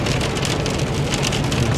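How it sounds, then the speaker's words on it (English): Steady rain falling outdoors, a dense continuous hiss of drops striking surfaces with a low rumble underneath, constant and fairly loud throughout with no voices. "It's raining today"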